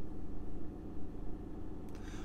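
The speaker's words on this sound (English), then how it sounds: "I could edit the video and cut all this traffic out" Road traffic in Guernsey, a steady low rumble of passing cars and engines, fairly close, with no voices over it.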